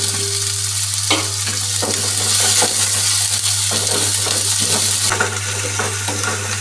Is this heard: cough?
no